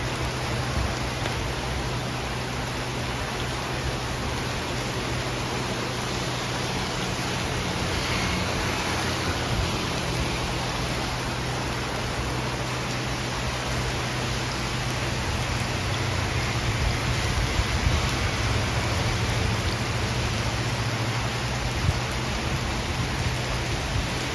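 Very heavy rain pours down in Rangsit, Pathum Thani, Thailand, a dense, steady roar of downpour with no gaps, loud and continuous throughout with no talking.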